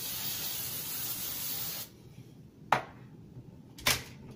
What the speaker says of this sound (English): Now I'm going to do more hairspray